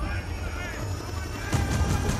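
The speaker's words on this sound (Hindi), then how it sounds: "वाओ हेलीकॉप्टर भी आ गए, इतना जबरदस्त साउंड आया" A helicopter in the Battlefield 2042 game trailer thrums with a low, pulsing rotor chop that swells louder after a brief steady stretch.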